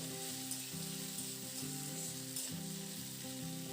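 Potatoes are stirred and lightly fried in a pan for a dish with spring onions and prawns, giving a steady sizzle over a tonal background hum, with periodic soft stirring strokes.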